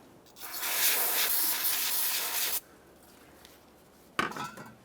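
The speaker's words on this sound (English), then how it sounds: "The parts cleaner is going directly on the rag." An aerosol can of parts cleaner sprays onto a rag in a long, close hiss for about two seconds, then stops; after a pause, a second short burst of spray follows.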